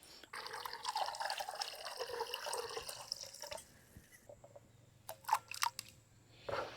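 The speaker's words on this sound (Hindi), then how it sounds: "पोटैटो हमारे हो गए हैं कट। अब क्योंकि ये रेड होने लग गए ना, इनको पानी में रख देंगे।" Cut potatoes being dropped into water in a home kitchen: a sustained run of splashing and liquid pouring, followed by a few distinct plops and drips after it quiets.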